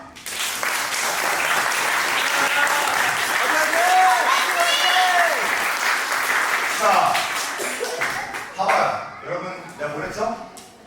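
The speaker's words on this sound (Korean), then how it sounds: "그냥 동정에서 박수를 쳐주는 것 뿐이에요" Loud, sustained applause from a crowd at a Korean professional wrestling show, mixed with cheers and a voice talking over it, fading into scattered claps near the end.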